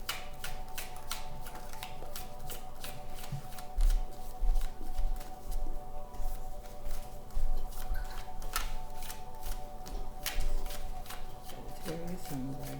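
Tarot cards are shuffled by hand in a steady run of crisp, quick riffling flutters, close and fairly quiet, with a faint low background hum.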